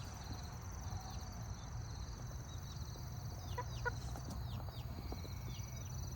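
Chicks cluck and cheep faintly from the back of a chicken coop, brief scattered calls over a constant low hum of background noise.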